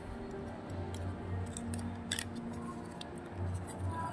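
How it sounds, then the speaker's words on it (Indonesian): Small scissors on a classic Victorinox Swiss Card wallet tool snip and click repeatedly at close range, short crisp metallic cuts with a quiet background. "Terus ada di sini ada gunting."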